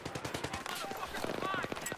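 Light machine gun fire in Battlefield 3 on the Noshahr Canals map, rapid repeated bursts of shots mixed with game effects, with a voice talking over the gunfire.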